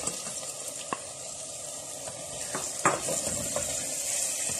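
Chicken sizzling in a pan with onion, garlic and ginger, a steady close frying hiss with occasional clinks of a spoon stirring against the pan.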